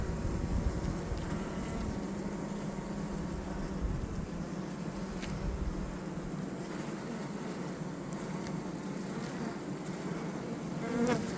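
Honey bees swarm and buzz around a small mini mating nuc hive, a dense, steady drone of many insects close up, with individual bees whizzing past now and then.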